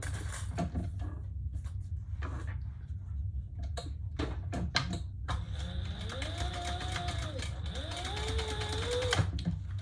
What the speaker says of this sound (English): then I'm gonna sew these two sides together